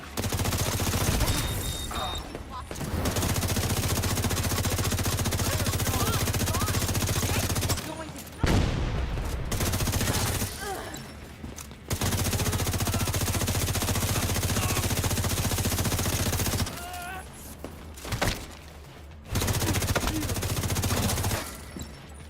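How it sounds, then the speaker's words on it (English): Bursts of automatic gunfire rattle loud and dense in a shooter video game, long sustained volleys broken by short pauses, with a player's voice occasionally heard between them. "Bullets bounced off!"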